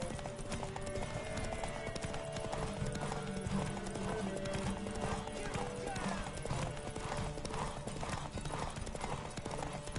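Rapid clip-clop of horse hooves galloping through a race in The Witcher 3, continuous and close, with an occasional whinny, a steady music-like drone underneath, and bursts of shouted voices over the pounding hooves.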